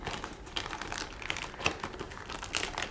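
Close, irregular crinkling and tearing of a Neewer microphone boom arm's packaging being ripped open, a run of crackly rustles and sharp rips at moderate loudness with no talking.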